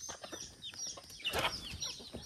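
Chickens on a village farm cluck and squawk excitedly while being fed rice, several birds close by calling in quick, overlapping bursts with a louder flurry midway.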